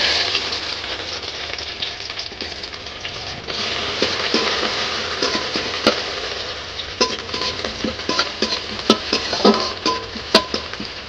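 Onions hit hot oil in a wok (kadai) for a homestyle crab curry, giving a steady hissing sizzle that swells after a quiet start, with scattered clinks and scrapes of a utensil against the pan.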